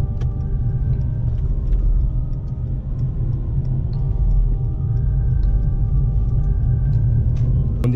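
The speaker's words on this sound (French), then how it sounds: "Ce soir, je suis à bord du C coupé, donc CW205 coupé." A Mercedes C-Class coupé (W205) drives steadily, heard from inside as a constant low engine and road rumble with faint clicks and light interior noises, fairly loud and close.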